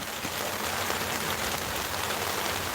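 Steady, dense rain falls outdoors in an even wash of hiss and patter on surfaces, constant and fairly loud throughout with no voices.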